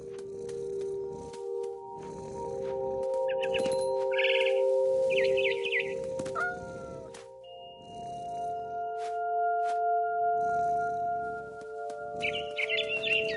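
A bird chirps in short high bursts over steady humming tones and rhythmic pulsing music in the video game What Remains of Edith Finch, with a few scattered calls.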